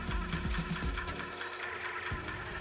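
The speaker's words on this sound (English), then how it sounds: "Using a sewing machine, sew along the open side." A sewing machine stitches along the open side of a fabric lanyard, a fast, even mechanical rattle of the needle running continuously and close.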